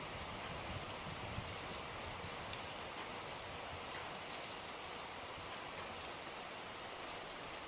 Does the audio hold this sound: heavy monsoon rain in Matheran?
yes